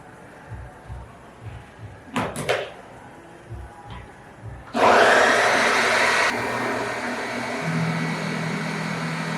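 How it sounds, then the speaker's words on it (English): A blender whirring through hummus as olive oil is drizzled in, starting with a few clunks and knocks, then kicking into a loud steady motor whine that drops to a lower continuous hum. "Now, while I'm blending this, I'm going to drizzle in"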